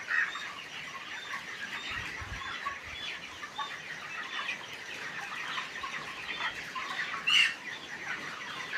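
A flock of chickens at a poultry farm clucks and squawks continuously at close range, many overlapping calls with a brief wing flap or two and no talking.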